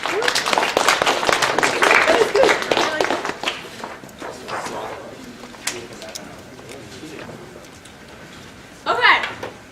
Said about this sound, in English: Fabulous round of applause.